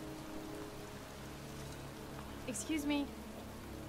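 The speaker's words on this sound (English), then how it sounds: "standing in a cemetery, pouring rain" Steady rain pours in a continuous hiss over a cemetery in the video game Heavy Rain, with a brief spoken exchange and a short tonal sound rising over it near the end.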